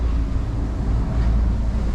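Strong storm wind buffets the microphone in a continuous low, rumbling roar that booms and surges unevenly, with no speech over it.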